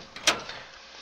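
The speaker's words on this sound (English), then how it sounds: "and the door opens, and you can see the old guy comes out to the door" A door opens in an RPG Maker VX Ace game, a short soft click-and-swish effect, faint and alone.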